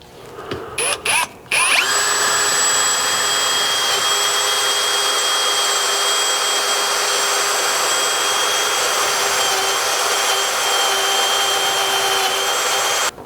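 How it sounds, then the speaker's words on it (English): A power drill with a step bit bores out holes to 1/2 inch through the bed of a third-gen Chevy Colorado pickup, starting with a few short bursts, then holding a loud, steady high-pitched whir close by. "I grabbed a step bit or unibit that goes all the way up to 1/2 inch, because we're going to be drilling these out to accept 1/2 inch hardware"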